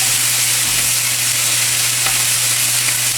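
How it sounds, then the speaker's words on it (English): Onions sizzle loudly in a hot pan, a constant crackling hiss with no voices over it. "And you can hear that sizzle."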